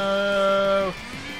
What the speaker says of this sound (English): Yeah, it mooed!